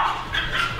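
A small dog gives a quick, high yappy bark, close and fairly loud, lasting under a second.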